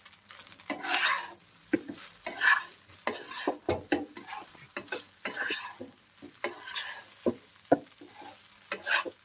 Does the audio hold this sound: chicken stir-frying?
yes